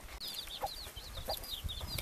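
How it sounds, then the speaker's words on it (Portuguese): A hen with her recently hatched chicks on a yard near a coconut palm, heard as a run of high, thin chirping peeps over soft low clucks, fairly close and continuous for a couple of seconds. "aqui é a galinha que tirou os pintinhos esses dias"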